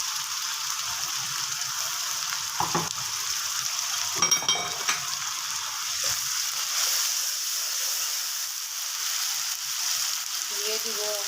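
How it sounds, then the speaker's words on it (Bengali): Chopped onion browning in a pan with ginger and garlic, a steady sizzle with a few scraping stirs of a spatula near the start and middle, fairly quiet and close, no talking. "পেঁয়াজটা লাল হয়ে আসছে, এখন আমি আদা রসুন দিয়ে দিব।"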